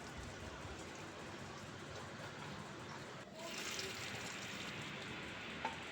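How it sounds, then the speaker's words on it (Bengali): Hot cumin and dried red chilli tempering poured into masoor lentil dal, a sudden sharp sizzle that sets in and then hisses steadily and faintly, with a small clink near the end. "মসুর ডালের তরকার মধ্যে ফোড়নটা দিয়ে দিলাম।"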